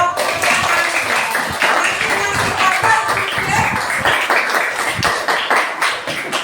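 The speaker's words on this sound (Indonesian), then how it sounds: "Tepuk tangan untuk kelompok visual, auditori dan kinestetik." Classroom pupils clap for their student groups, a dense, steady patter of many hands lasting several seconds, with some talk mixed in.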